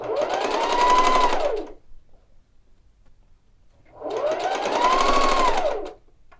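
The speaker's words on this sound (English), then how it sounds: "as I'm stitching down this line" Two bursts of a sewing machine stitching a tie jacket belt, each a rapid whirring run of about two seconds that speeds up then slows, separated by a quiet pause, close and clear with no talk.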